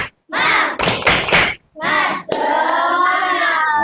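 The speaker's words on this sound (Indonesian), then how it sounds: "Tepuk semangat." A classroom group does a rhythmic spirit clap during an Islamic religious education lesson, with sharp clap bursts mixed into loud chanted voices in short, energetic phrases.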